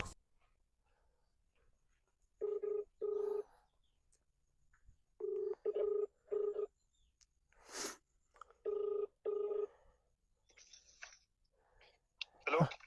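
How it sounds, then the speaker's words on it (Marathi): A phone call placed by a banana trader rings out as repeated paired ringback tones, three double bursts evenly spaced, with faint rustles and breathy noises between them. "मी फोन लावून तर बघतो"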